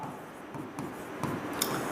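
Chalk or marker scratching across a classroom board as notes are written, light rubbing strokes and small taps in short bursts, close and fairly quiet with no talk.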